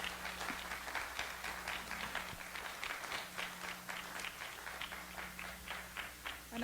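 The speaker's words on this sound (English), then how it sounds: "let's give William Big Day a big round of applause for that program" A live audience applauds after a talk on Crow art and rock petroglyphs, giving a steady, fairly quiet round of many hands clapping that runs on without a break and without any speech.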